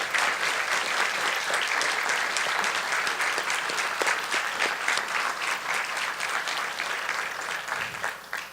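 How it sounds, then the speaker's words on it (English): A crowd claps at the grand opening ceremony for the TriMet FX2-Division transit line, a steady, moderately loud wash of applause with individual claps audible, tapering slightly near the end. "A round of applause for"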